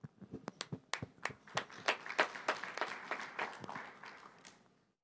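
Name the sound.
audience clapping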